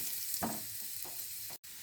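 Five cloves of grated garlic fry lightly in a pan for a restaurant-style mushroom starter, giving a steady, soft sizzle that runs evenly before cutting out briefly near the end.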